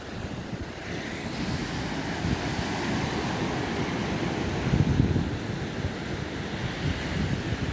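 Waves break and wash continuously on a small beach in front of a seaside house, a dense rolling surf roar with wind buffeting the microphone and a slightly stronger surge midway.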